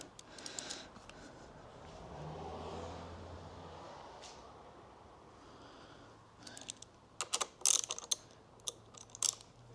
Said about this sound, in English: let's get that tightened. So this socket is a 10 mil.